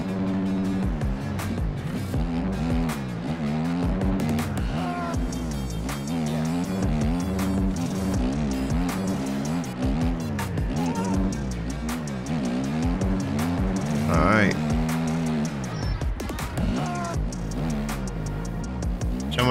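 A 450 dirt bike engine on a motocross track in the MX Bikes game howls steadily for a long stretch, surging and dropping with the throttle and shifts, loud and up close, no voices.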